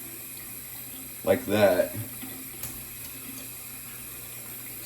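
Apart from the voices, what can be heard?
water from a tap filling a shaving bowl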